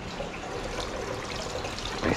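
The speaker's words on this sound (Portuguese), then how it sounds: "Vai sair derramando água e tudo aqui" Water spills and trickles steadily from a pond sump filter filled with perlon and activated carbon, a continuous close splashing wash with a slightly louder gush at the end.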